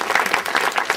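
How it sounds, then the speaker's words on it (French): Audience at a French awards announcement bursts into applause, a brief, dense patter of many hands clapping at close range with no talk. "je crois qu'on peut vous applaudir tout le monde"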